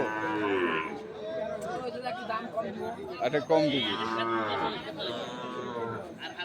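Sahiwal calves mooing at the busy Ambari cattle market, drawn-out lowing calls repeating close by under steady chatter and people talking.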